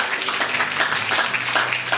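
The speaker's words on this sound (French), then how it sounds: "Est-ce qu'on peut applaudir le Seigneur puis on s'assoit?" A church congregation applauds, a brief, dense patter of many hands clapping together at moderate volume, continuous across the short moment.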